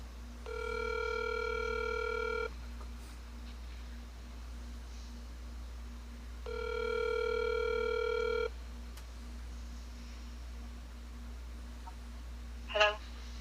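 Ringback tone on a recorded phone call sounds twice, each about two seconds long with a long pause between, over faint line hiss, followed by a brief click.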